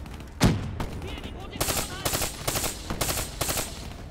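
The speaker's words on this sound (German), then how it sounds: "Die schießt Dreier Bursts ab, aber vollautomatisch." Rapid automatic gunfire in Call of Duty: Black Ops 3, a loud single shot followed by repeated clustered bursts of rounds in close succession, near and steady, with no talk over it.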